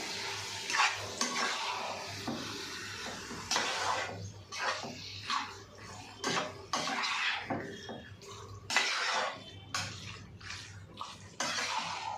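Chicken liver frying in oil is stirred in a pan, giving repeated scraping and clinking strokes over a soft sizzle, fairly quiet overall.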